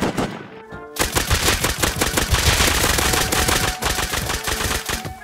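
A nail gun in the Rust video game fires a rapid, loud burst of sharp mechanical shots after a brief lead-in, running steadily for several seconds with no talking.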